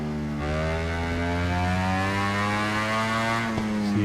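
Ducati Desmo engine on a racing motorcycle in RIDE 3, flat out above 200 mph: a steady, loud, sustained harmonic drone with no break.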